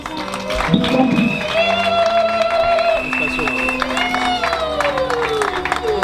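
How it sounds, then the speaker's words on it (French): Crowd applause and cheering for the parents at a civil wedding, a busy wash of clapping mixed with voices, whoops and background music that carries on for several seconds. "Applaudissons très fort pour les parents."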